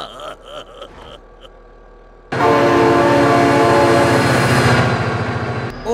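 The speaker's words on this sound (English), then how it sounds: "Oh my god, train!" A train in the BeamNG.drive driving game bursts in suddenly and loud, a dense roaring rumble with horn-like tones that holds steady for about three seconds after quieter game sounds and a few brief clanks.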